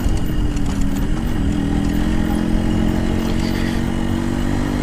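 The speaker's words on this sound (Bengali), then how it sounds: "আমি এই যে ভালো ভাঙা রাস্তার মধ্যে রাইড করতেছি" A Yamaha RX 115 two-stroke motorcycle rides over a broken, potholed road, its engine droning steadily up close with light rattling and clatter from the bumps.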